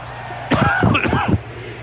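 A sports commentator coughs or clears his throat during an NFL broadcast of Miami at Baltimore, a brief, harsh, voiced burst up close over a low crowd murmur.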